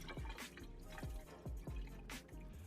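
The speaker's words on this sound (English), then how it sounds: "I then just drained out the water in the sink." Water drains out of a kitchen sink after rice cakes are rinsed under the tap, with a run of close, distinct gurgling drips and plops in irregular succession over a quiet wet background.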